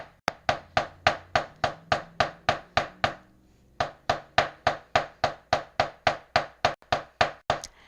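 Steady, evenly spaced blows from the wide ball end of a large hammer thud on flowers laid on paper towel, about three per second, with a brief pause partway through before the pounding resumes.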